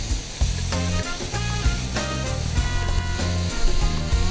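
Green and red peppers, carrot and onion sizzle steadily in a pan as they are stirred, a continuous crackling hiss under a loud layer of music with no one talking.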